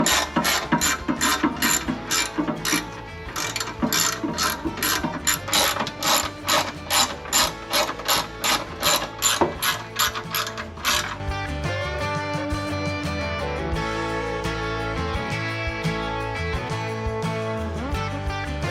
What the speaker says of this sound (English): You can see it's 1, 2 10mm bolts, and then a bolt right here to remove the step.